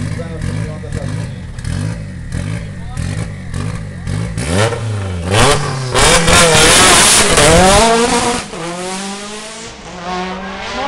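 A rally car launching from the start line at a Bulgarian rally near Sliven, the engine revving hard through rising gear pulls with tire squeal, loud and close, with a commentator speaking over it.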